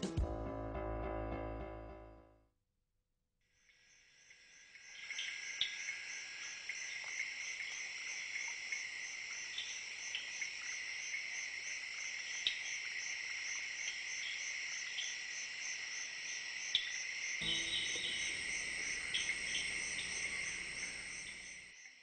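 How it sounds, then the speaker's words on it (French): Australian rainforest ambience at night, dense steady trilling of insects with frog calls layered over it, continuous and moderately loud, after a short burst of unrelated sound and a moment of near silence. "Ici, ce sont les forêts pluvieuses d'Australie."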